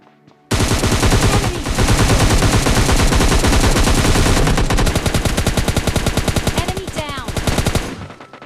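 M4 rifle fire in the mobile shooter PUBG Mobile Lite, long rapid automatic bursts that run almost nonstop, loud and close, tapering slightly toward the end, with no voices.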